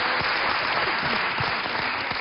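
A television studio audience applauds, a dense, steady wash of many hands clapping at close range.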